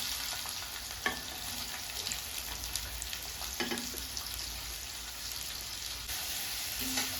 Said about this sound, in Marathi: कांदा फ्राय व्हायला खूप वेळ लागतो